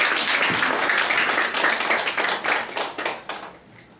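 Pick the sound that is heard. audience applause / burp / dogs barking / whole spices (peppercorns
audience applause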